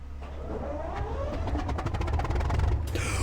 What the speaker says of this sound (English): just by pressing that button and hearing the engine turn on